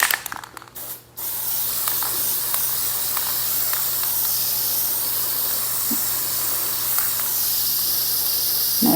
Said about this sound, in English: just spray from the top and let it drift down there